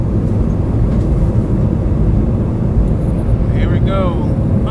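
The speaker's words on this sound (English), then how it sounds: "I want y'all to watch this takeoff" A passenger airplane takes off, heard from inside the cabin as a loud, steady engine roar and low rumble that continues throughout, with faint chirps near the end.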